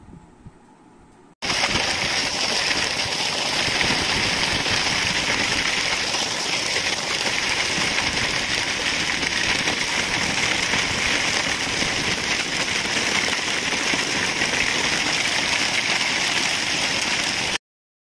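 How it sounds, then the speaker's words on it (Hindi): Heavy rain pours steadily across a snowy hill region, a loud, dense, unbroken hiss of falling water that starts abruptly after a quiet opening and holds constant to the end. "शिवना इलाके में भारी बरसात के साथ बर्फबारी भी हुई"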